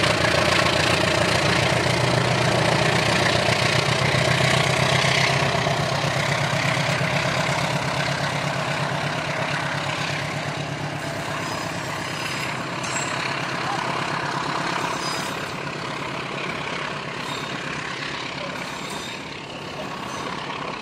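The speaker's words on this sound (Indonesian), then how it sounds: "Ya, kereta api Garut Cibatuan langsung gaspol ya, menanjak." A Garut–Cibatuan passenger train's locomotive works hard climbing an uphill grade, a loud, steady diesel engine drone with deep throbbing that eases slightly toward the end; a person talks over it.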